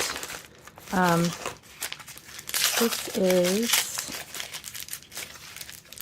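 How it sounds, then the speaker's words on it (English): Paper packaging from a small craft shop order being torn open, a crinkling, ripping rustle close by, with someone talking over parts of it. "nice paper tearing"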